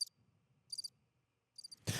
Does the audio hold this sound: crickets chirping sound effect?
yes